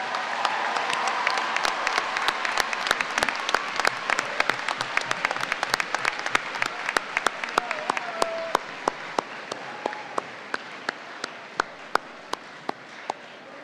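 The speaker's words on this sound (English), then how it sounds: "can you please join me in giving another hand for our faculty at Chandler-Gilbert?" Sustained audience applause for departing faculty at a Chandler-Gilbert Community College commencement ceremony, dense clapping from a large crowd that thins into scattered individual claps toward the end.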